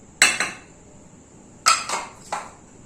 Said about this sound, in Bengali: চিনিটা দিয়ে খুব ভালোভাবে আবার চিনিটা মিক্স করে নেব।